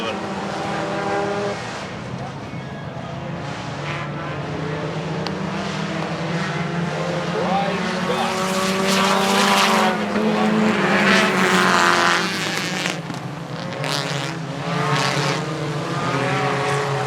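Hobby stock race cars circle Rocky Mountain Speedway, engines droning loud and steady with rising and falling pitch as cars pass, tires squealing faintly, under an announcer's voice throughout.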